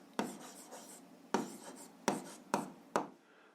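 Pen scratching across paper while an algebra exercise is worked out, five short quiet writing strokes spaced about a second apart, each a soft rasp that fades quickly.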